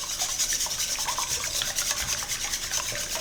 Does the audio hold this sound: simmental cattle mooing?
no